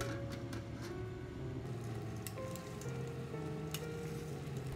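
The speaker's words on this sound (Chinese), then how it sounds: "锅里的汤汁开了，放入芋头面，开大火煮5分钟" Taro noodles boil in a pot of seafood broth over high heat, a steady soft bubbling hiss with faint crackles running evenly throughout, no voices.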